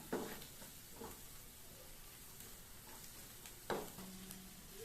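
Spicy mutton liver pepper fry sautéed with coriander leaves in a pan, a steady soft sizzle with occasional scraping stirs of the spatula, close and fairly quiet.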